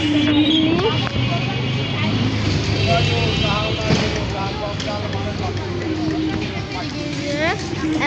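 Busy traffic on a city main road, with a steady roar of passing vehicles and horn tones, loud and close, while someone talks over it throughout.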